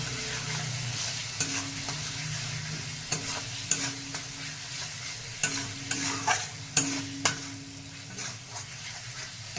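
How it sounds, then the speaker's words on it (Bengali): Masala for chicken ghugni sizzles steadily in a pan as a spatula stirs it, scraping the metal in repeated strokes, close and fairly quiet with no talking. "এবার আমি এটাকে নেড়ে নেব"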